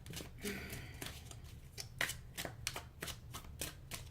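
Tarot cards riffle and slap together in repeated quick bursts, close and fairly quiet, a steady rhythm of shuffling with no talking.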